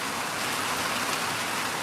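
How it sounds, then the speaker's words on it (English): Steady rain falls and patters on surfaces outdoors, a continuous soft hiss with no voices. "we've been getting rain the last, gosh, a little bit each day the last week and a half."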